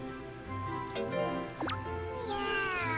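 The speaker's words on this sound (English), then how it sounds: "How do you like this kitty." A cat meows a few times, drawn-out and fairly close, over a steady background hum, with a couple of faint drip-like ticks between the calls.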